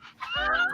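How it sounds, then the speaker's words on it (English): A corgi whimpers close by in a short, high, wavering whine lasting under a second, with a soft breathy yip just before it. "No, the dog, the corgi."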